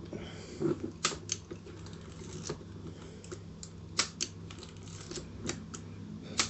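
The film advance on a 1961 Petri 7 35mm rangefinder camera is wound on, producing a close series of crisp mechanical clicks and ratcheting ticks, irregularly spaced over a steady low background hum.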